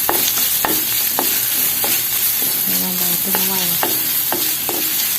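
Garlic and ginger fry in oil for a sardine curry with a constant close sizzle, cut by repeated scraping stirs of a spoon against the pan at about half-second intervals, with no talk.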